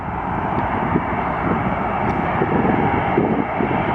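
Large grey four-engine military aircraft passing overhead, a loud steady droning engine roar that fills the scene continuously, close with no voices.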